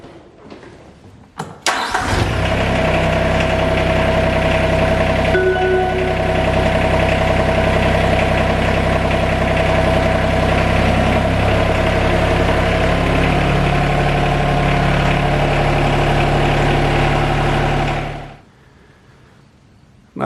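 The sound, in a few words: TYM R25 tractor engine idling while backing away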